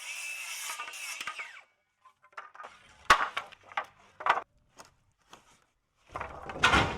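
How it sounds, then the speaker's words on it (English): Leftover shed-building wood scraps being cut down to fit inside a dumpster: rough, buzzing cutting bursts at the start and end, with scattered clunks and knocks of handled wood in between, no talking. "We're just gonna cut it to fit inside the dumpster."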